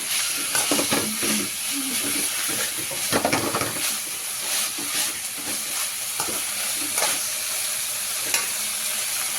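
Fresh coriander leaves with stems fry in about a spoonful of oil in a kadai, a steady close sizzle broken by scraping stirs and bursts of crackle, with no talk.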